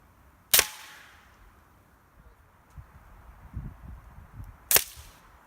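Two sharp CCI Quiet-22 .22 Long Rifle shots heard from about 30 yards outdoors, each a crisp snap-like crack several seconds apart, with faint rustling and low background noise between.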